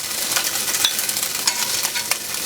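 Tofu frying in a pan for hot and sour ramen, a close crackling sizzle with a few sharp spatula stirs and taps.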